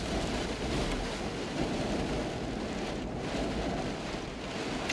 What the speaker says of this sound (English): a very windy, rainy day